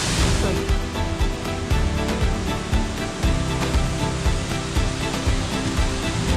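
Waterfalls at Plitvice Lakes in Croatia, a continuous loud, close roar of falling water over travertine barriers, steady and unbroken throughout.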